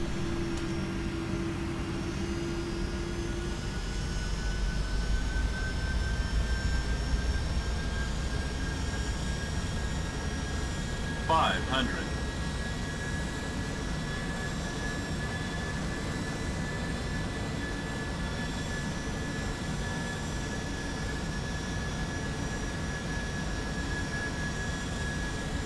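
A Delta airliner on approach to land in the X-Plane 11 flight simulator, its jet engines holding a steady droning whine with a faint tonal hum for the whole stretch, no one speaking.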